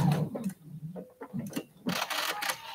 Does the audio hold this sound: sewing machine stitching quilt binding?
yes